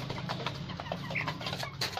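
Desi hens cluck softly in a yard, short scattered clucks and calls at moderate distance over a low background hum, with no talk.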